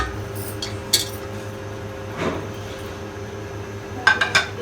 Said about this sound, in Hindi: इसमें हम प्याज डालेंगे।